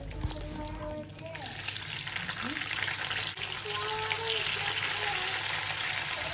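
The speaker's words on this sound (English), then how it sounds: "I'll fry this cow foot and the beef for about 2 minutes on each side" Cow foot and beef fry in a pot for a Nigerian ayamase (ofada) stew, giving off a continuous, fairly loud hissing sizzle for the whole stretch.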